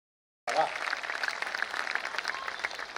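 Audience applause at a Hindi hasya kavi sammelan, a comedy poetry gathering, breaking out suddenly and holding as a dense, steady wash of clapping from a crowd for about two and a half seconds.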